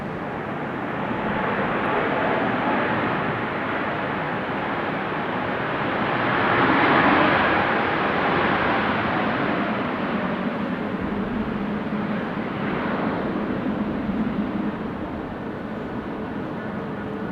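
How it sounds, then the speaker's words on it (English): An ITA Airways airliner landing at Amsterdam Schiphol Airport on a windy, showery day, a steady broad jet roar that swells around the middle and fades slowly, heard from a distance with wind noise throughout. "First up, ITA Airways, I should say. Doing a floaty landing."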